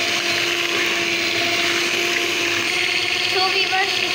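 Kiwi paste being beaten into a homemade ice cream mixture with an electric beater, giving a loud, steady motor whine with liquid churning that runs unbroken throughout.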